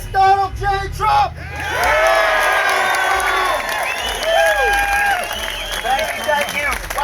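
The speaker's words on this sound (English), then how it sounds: "Wow, what a crowd." Crowd at a Support the Police rally in Suffolk County, New York, cheering, whooping and applauding loudly after a speaker's introduction, with sustained shouts and clapping filling the space.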